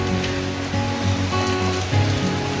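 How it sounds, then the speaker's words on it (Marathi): Heavy monsoon rain falling on a village, a loud, continuous hiss and patter with a steady low tonal hum running beneath it. "किती पाऊस आहे बघा"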